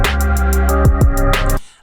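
Spacey electronic track with a steady kick, bright hi-hats, brassy horn stabs, piano and a lush synth pad, playing loud and continuous before cutting off abruptly near the end.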